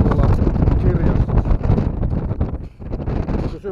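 Wind buffeting a microphone outdoors: loud, gusty low-frequency rumble and crackle that swells and dips over a few seconds, with a voice partly buried beneath it.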